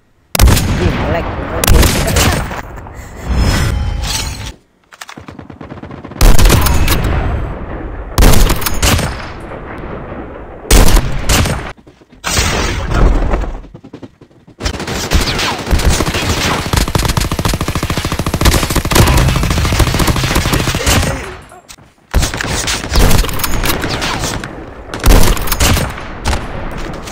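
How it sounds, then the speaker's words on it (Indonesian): Loud bursts of rapid automatic gunfire in Call of Duty Mobile, close and harsh, coming in repeated volleys separated by brief silences, with occasional heavier booms. "Kayaknya gue ngedengar ada tembakan"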